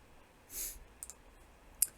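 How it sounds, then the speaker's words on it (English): A computer mouse clicks while working in TinkerCAD: a soft rustle, then a few crisp, close clicks spaced apart, the last one the sharpest, in a quiet room with no speech. "So clicking and dragging, you just click and drag and highlight everything."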